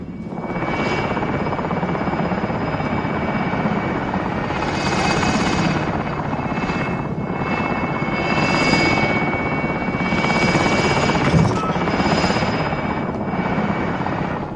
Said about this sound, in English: Friendly personal radar overhead. Helo is in position.